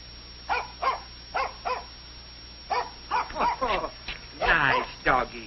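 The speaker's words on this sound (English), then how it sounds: "Nice doggy. Good doggy. Go home." Dog barking in an old 1937 film comedy, a series of sharp yips and barks in short bursts, some rising into whining howls, fairly close.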